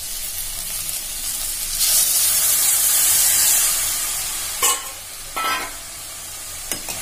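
Okra and radish sizzling in a pan as tamarind water goes in, a loud hissing fry with bursts of steam and a few sharp stirring scrapes, with no voices.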